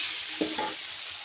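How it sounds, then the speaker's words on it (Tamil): Ingredients with drumstick being sautéed in a pan for Ramanathapuram-style squid gravy, a steady close sizzle of frying with a couple of brief stirring scrapes. "இப்போ இது எல்லாத்தையும் நல்லா வதக்கிடுவாங்க"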